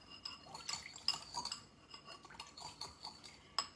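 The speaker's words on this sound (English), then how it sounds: "you can use a whisk or a spoon to mix it all together" A whisk or spoon clinks against a bowl while a soy ginger dipping sauce is mixed, quick repeated metallic taps and scrapes close by, with no talking.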